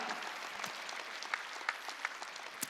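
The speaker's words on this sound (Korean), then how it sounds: "박수 치라 이게야" A church congregation at a Wednesday worship service applauds, a fairly soft, continuous spread of clapping with a few sharper individual claps standing out near the listener.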